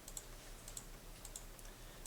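Mouse clicks while selecting squares of a 5x5 grid in computer software, as a Control key is held down: a series of faint, crisp clicks at an uneven pace over a quiet low hum.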